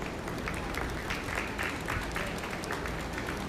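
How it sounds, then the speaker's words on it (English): A crowd at a 4-H/FFA dairy show applauds exhibitors in a junior show ring, steady dense clapping filling the whole stretch at moderate loudness. "Give these exhibitors a round of applause."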